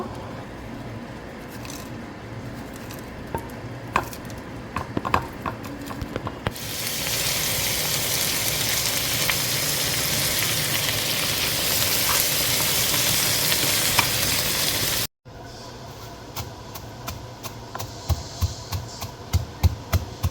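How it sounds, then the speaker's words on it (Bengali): Fried shrimp tip into a hot pan in a home kitchen, and the oil erupts into a loud, continuous sizzle that swells after a stretch of quieter spoon clinks and stirring taps. The sizzle cuts off briefly, then stirring clatter resumes. No one speaks. "এই ভাজা চিংড়িগুলো আমি এখন এর মধ্যে দিয়ে দিব।"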